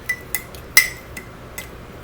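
Cake batter stirred in a bowl, a handful of sharp clinks of a utensil against the bowl spaced out over two seconds, one ringing louder than the rest, close and otherwise quiet.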